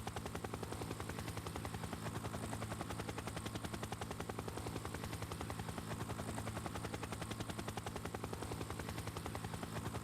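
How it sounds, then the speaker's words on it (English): A helicopter flies over the stage-finish town of the 2003 Giro d'Italia, its steady rapid rotor chop holding constant for the whole stretch, with no talking. "A helicopter bringing you the delightful sights looking back down in towards the town"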